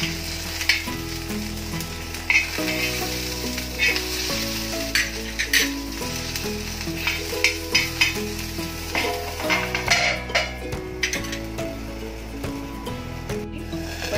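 Green chilies frying in a pan for spicy Maharashtrian thecha chutney, a close steady sizzle with scraping stirs and clicks over a sustained musical tone in the background.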